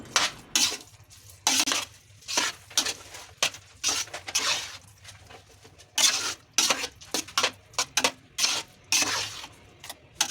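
Pumpkin halwa with jaggery is stirred in a pan, heard as repeated rhythmic scraping bursts of a spoon against metal with brief quiet gaps and a faint sizzle underneath.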